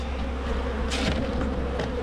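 Honeybees buzz densely around an opened hive during a routine spring inspection, a close, steady drone with a few louder swells as bees fly near. Nobody speaks.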